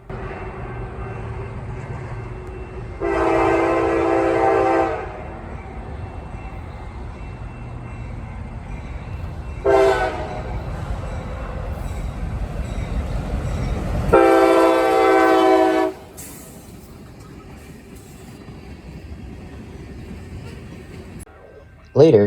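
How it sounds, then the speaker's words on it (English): CSX 2680 leads a southbound local freight train past, blasting its horn in several loud, drawn-out bursts. The rumble of the passing cars swells underneath and then fades away. "I went out to catch a local going south with CSX 2680 leading."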